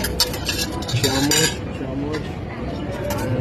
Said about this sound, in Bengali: এখান থেকে প্লেট নেব, পুরো বুফে সিস্টেম। এই যে প্লেট নিলাম।